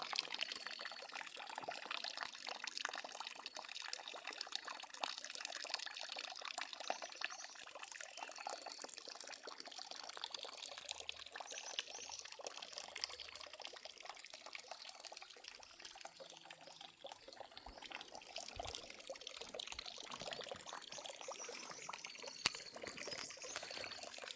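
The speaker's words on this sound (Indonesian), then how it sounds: "Dan airnya juga melimpah di sini." Abundant water flows steadily in a quiet hillside village, a constant close rush and trickle like a running spout, continuing evenly without speech.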